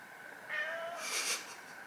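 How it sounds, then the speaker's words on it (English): A cat gives one faint, drawn-out meow that rises and falls over about a second, in a quiet indoor setting with no talk. "There is a cat watching me."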